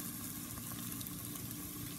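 Cornstarch-marinated beef fries in a pan with butter and onion, making a soft, continuous sizzle at low volume with no voices.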